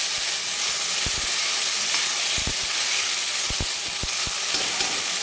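Tomatoes sauté in oil in a pan on medium heat for Kashmiri dum aloo, a steady bright sizzle with scattered scraping knocks of a spatula against the pan, close and continuous throughout.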